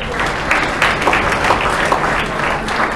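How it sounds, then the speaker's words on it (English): A crowd applauds at a Model UN closing ceremony, many hands clapping in a dense, continuous wash for a few seconds. "So please clap for yourselves."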